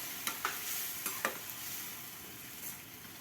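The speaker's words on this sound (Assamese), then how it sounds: "এতিয়া সিজাই থোৱা লাওৰে সৈতে মাছৰ মাথাখিনি ইয়াতে দি দিলোঁ। এইখিনি ভালদৰে লৰাই ল'ম।" Fish head with boiled bottle gourd is stirred into fried spices in a pan, a soft steady sizzle under a handful of sharp spatula scrapes and taps, close and fairly quiet.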